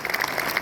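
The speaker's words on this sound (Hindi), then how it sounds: "जोरदार तालियां" A crowd at a youth festival event applauds, a dense, steady burst of clapping that fills the whole short moment at moderate loudness.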